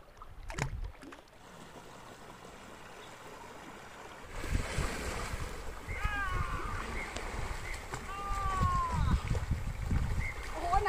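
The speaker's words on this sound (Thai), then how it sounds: "นี่ขนาดเป็นหน้าแล้งน้ำก็ยังเชี่ยวไหลแรง" Fast-flowing water of the Phetchaburi river in the dry season, running over round stones beside a riverside campsite; a steady rushing wash that swells louder midway, with faint high calls over it.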